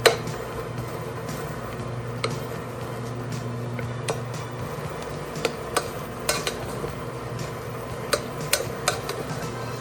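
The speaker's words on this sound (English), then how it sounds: "you hear the dough frying" Choux pastry dough frying in a pan while being stirred, a steady low sizzle with sharp scrapes and clicks of the spoon against the metal recurring throughout, close and moderately loud.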